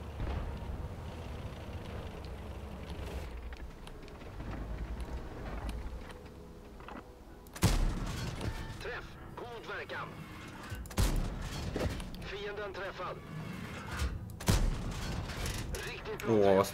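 Tank cannon fire in World of Tanks, several sharp loud booms spaced a few seconds apart over engine and battle rumble, with someone talking in between.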